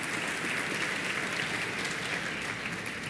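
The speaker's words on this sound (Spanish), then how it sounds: "Dele un fuerte aplauso al Señor" Congregation in a church applauding during a Sunday service, a steady, sustained wash of many hands clapping with no break, fairly loud and unbroken throughout.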